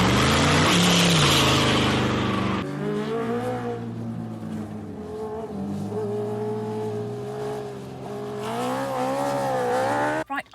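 A car is driven along the road with a steady engine drone and tire roar rising and falling through shifting revs, loud and close from inside the cabin, with no talking.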